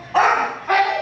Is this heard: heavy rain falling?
no